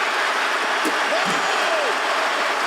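A big arena crowd in the WWE 2K25 wrestling video game roars and cheers in a steady, dense wash of noise, with a faint voice briefly audible in the mix.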